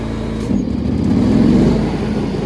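A John Deere X340 riding mower engine with a stalling problem, running at high throttle: a steady, close, droning engine note that rises slightly in loudness partway through and then holds.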